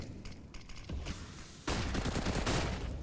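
Rapid bursts of rifle fire crackle during a professional Counter-Strike match at a tournament, quieter at first and then a louder, denser volley of shots in the final second and a half.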